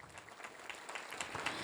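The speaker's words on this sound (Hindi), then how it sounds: "ज़ोरदार तालियों से हम इंदु बहन का भी स्वागत करेंगे" Audience applause rises steadily, a dense wash of clapping from a seated crowd welcoming a speaker onto the stage at a Maha Shivratri gathering, heard at a moderate distance.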